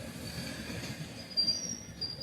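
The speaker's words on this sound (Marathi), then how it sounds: "आपली गाडी प्लॅटफॉर्म क्रमांक 1वर जात आहे" A train rolling slowly into a platform at Kurduwadi station gives a faint low rumble of wheels, with a thin, high, sustained squeal of steel on rail rising near the end.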